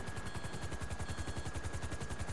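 Automatic gunfire in GTA Online, a rapid, evenly spaced burst of shots running continuously, close and steady with no voices over it.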